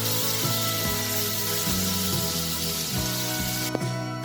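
Ginger garlic paste sautéing in a pan for a green bean sabzi; a loud, continuous hissing sizzle with faint stirring scrapes throughout, and no talking.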